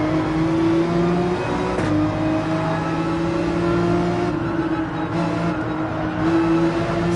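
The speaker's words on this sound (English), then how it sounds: "Already the 911, one of the slower cars for takeoff from a standstill." A Porsche 911 in Gran Turismo 7 accelerates from a standstill, its engine note holding a steady droning whine with slight pitch shifts, loud and close, with no voices.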